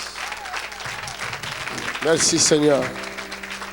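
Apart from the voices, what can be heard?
congregation applauding for Jesus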